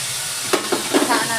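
Fenugreek seeds frying with golden-brown onion in a pan for curry, a continuous sizzle broken by a few quick stirring scrapes, close and fairly loud.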